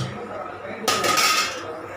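A lid lands on a cooking pot with one bright metallic clank that rings briefly, then fades into quiet kitchen background.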